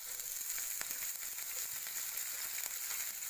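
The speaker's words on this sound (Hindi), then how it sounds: "1 चम्मच राई डालेंगे, 1 चम्मच हम जीरा डालेंगे, बारीक कटी हुई ग्रीन चिली डालेंगे" Mustard seeds, cumin and finely chopped green chili sizzle in hot oil, giving a steady, crackling hiss with small pops, close and alone.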